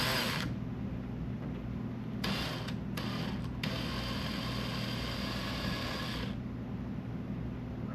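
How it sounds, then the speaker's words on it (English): A power drill grinds steadily and loudly through hard material for several seconds, its pitch holding constant with brief dips, no voices present. "It's a hell of a drill bit."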